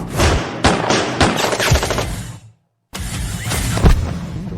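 Gunfire from a fight scene in a film, with a rapid burst of loud, sharp shots that breaks off into a brief silence and then resumes as a dense, heavy volley.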